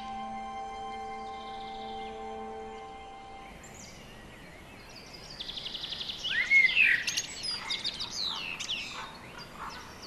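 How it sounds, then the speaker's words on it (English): A blackbird sings in a forest after snow turns to rain, its bright fluting phrases rising in the latter half over a soft background hush, with other faint tones fading out early. "the blackbird continues her song"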